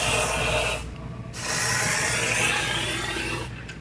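3M cavity wax is sprayed into the frame rail of a Subaru Outback, heard as a close, loud, hissing spray in two sustained bursts with a short pause between them.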